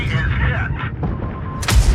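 Tank cannon fire in an online tank game, heard as short booming shots, with one sharp loud blast near the end, under a player's ongoing commentary.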